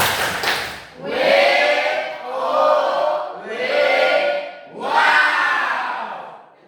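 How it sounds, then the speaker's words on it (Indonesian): A training group performs a clapping chant: a quick clap burst opens, followed by four loud, drawn-out group shouts in a rhythmic pattern, close and full-voiced. "Kita tepuk wow dulu untuk kelompok 3."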